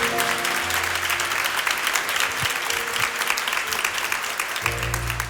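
A church congregation applauds loudly and continuously, with dense overlapping claps filling the hall and a low sustained tone beneath.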